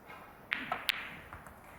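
Snooker balls click sharply on a table at the English Open, a few crisp knocks in quick succession as balls are struck and potted, quiet and close with soft arena ambience behind.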